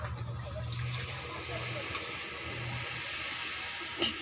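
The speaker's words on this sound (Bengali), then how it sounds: "এবারে আমি অল্প করে জল দিয়ে দেব।" Water is poured into mutton curry in a pressure cooker, a faint, continuous trickle and splash heard close, with a small clink near the end.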